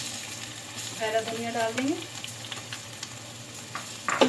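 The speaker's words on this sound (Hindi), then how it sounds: "अब ये भंगार जो है कड़ी में शामिल कर देंगे।" Hot tempering with curry leaves sizzles as it is poured into kari pakora kadhi, a close frying hiss with brief stirring, under a voice.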